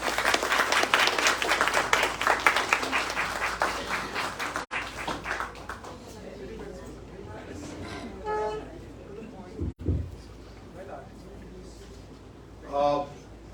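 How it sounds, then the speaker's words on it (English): Audience at a Mumbai launch event clapping loudly for a few seconds, then fading, followed by quieter room sounds and brief talk. "We are making a note of how loudly you are clapping"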